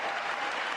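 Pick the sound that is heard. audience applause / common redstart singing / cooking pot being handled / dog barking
audience applause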